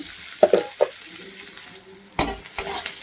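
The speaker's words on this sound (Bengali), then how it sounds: "পেঁয়াজ দিয়ে দিচ্ছি একটা ছোটো মতো পেঁয়াজ কেটে রেখেছিলাম সেটা দিয়ে দিচ্ছি" A small chopped onion hits hot oil and is stirred, giving a close sizzle with scraping spatula strokes and a couple of sharp clacks against the pan.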